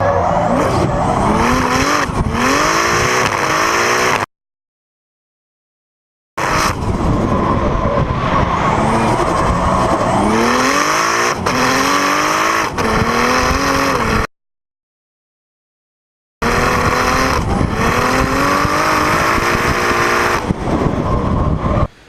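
Nissan S14 drift cars battling in a team run, engines revving hard with rising and falling pitch and tyres squealing, loud and close, broken by two short silent gaps.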